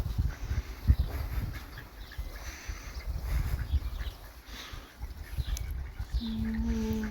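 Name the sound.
ducks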